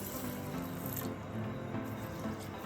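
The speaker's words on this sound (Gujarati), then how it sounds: "પેલા છે ને બે પાણીએ ધોઈ નાખીશું" Soaked rice being washed in water for kesar dudh paak, a steady quiet swishing and trickling of water with a brief brighter splash near the start.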